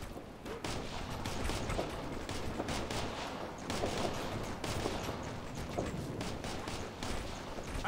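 Dense, continuous small-arms fire and bursts of automatic gunfire in the combat video game Operation Flashpoint: Red River, heard at a fairly low level with overlapping shots and no pauses.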